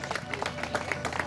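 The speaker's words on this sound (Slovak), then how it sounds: "Obrovský potlesk, Peter Káčer!" Audience applause greets cyclist Peter Káčer at the start of the seventh stage of the Káčer na bicykli 2017 ride in Tatranská Lomnica: steady, dense clapping and crowd noise, moderately loud and continuous throughout.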